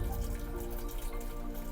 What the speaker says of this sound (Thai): น้ำไหลมา